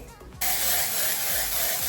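Dry shampoo hisses from an aerosol can in one continuous close spray onto a synthetic wig, starting abruptly after a short quiet moment and holding steady to the end.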